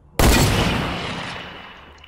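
A single sharp gunshot from a pistol in a shooter video game cracks loudly up close, then trails off in a long, fading echo tail lasting nearly two seconds.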